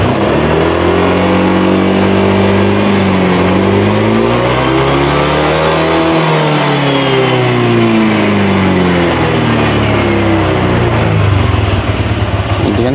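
A Honda Vario 125 scooter engine revved up from idle to a high whine, held, then eased back down, loud and close, with a second smaller rise near the end.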